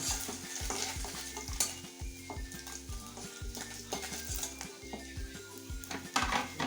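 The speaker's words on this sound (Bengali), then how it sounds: "এই যে ব্রাউন করে এই মাছ কটা ভেজে নিয়েছি, এখন তুলে দিচ্ছি।" Browned fried fish being lifted from a sizzling pan, steady frying hiss under rhythmic low thumping, with scrapes and clinks of a utensil against the pan close by.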